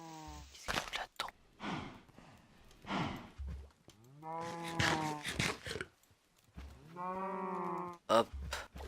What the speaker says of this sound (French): Il y a des vaches mushrooms ici.